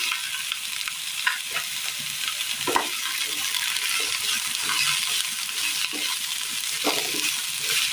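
Green beans tossed into softened onions in a pan, stir-frying with a steady sizzle and repeated scraping stirs of the spatula, close and moderately loud with no talking.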